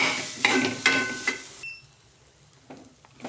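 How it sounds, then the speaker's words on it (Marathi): Freshly grated coconut is roasted in a pan and stirred with a utensil, giving several sharp scraping clacks over a soft, dry sizzle that fades into quieter, sparse stirring sounds. "आता नारळाचा खीस टाकला. त्याला ना आपण चांगलं भाजून घेऊ."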